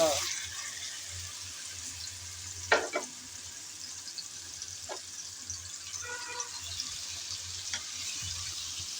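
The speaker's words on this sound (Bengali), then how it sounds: "এখন দিয়ে দিচ্ছি ম্যারিনেট করা মাংস।" Marinated meat hits a hot pan in a home kitchen while cooking kala bhuna, giving a steady, close sizzle and frying hiss throughout, with a few sharp clinks of a utensil.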